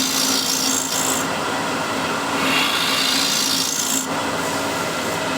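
A wood lathe spins a wooden blank at 1600 RPM, giving a steady, close, loud rasping and rubbing as the tool works the wood, with no speech.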